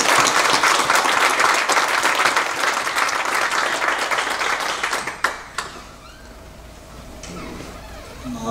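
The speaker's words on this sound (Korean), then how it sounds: "하나님께 감사의 박수, 또 축하의 박수" A church audience celebrating a news outlet's anniversary bursts into loud, dense applause for about five seconds, then it cuts off sharply, leaving quieter room tone with a few stray claps and faint noises.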